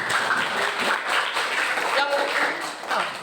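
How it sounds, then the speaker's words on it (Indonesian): A classroom of vocational school students breaks into lively applause, a dense wash of clapping that swells and dips, with voices mixed in. "Tepuk tangan"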